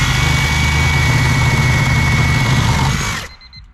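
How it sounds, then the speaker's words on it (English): Sawzall reciprocating saw cutting a small piece off a turbo Civic, a loud steady buzzing drone held for about three seconds before cutting off abruptly. "I'm just gonna sawzall this little piece off real quick"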